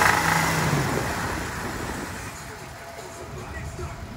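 A Jeep Rubicon engine idling low at about 500 rpm with a rod knock, a steady close rumble with a faint hiss and no clear separate knocking beats.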